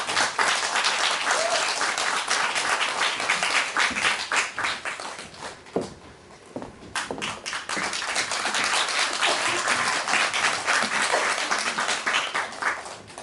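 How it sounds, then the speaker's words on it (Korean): An audience claps warmly at a book concert, with dense, sustained applause that dips briefly midway before swelling again and carrying on, loud and close. "뜨거운 박수 부탁드립니다"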